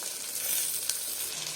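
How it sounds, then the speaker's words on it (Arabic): Washed, drained rice hits hot oil with frying vermicelli, giving a steady close sizzle and hiss with a faint stir-like scrape midway, no voices. "نروح نازلين بالرز غسلينه ومصفيينه"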